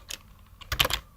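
Computer keyboard keys pressed while typing a shutdown command, a few soft, close clicks: one quick tap, then a short cluster of keystrokes.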